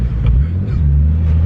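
A twin-turbo Nissan 370Z running on E85, heard from inside the car as a loud, steady low engine drone with a deep rumble and little change in pitch over a brief moment.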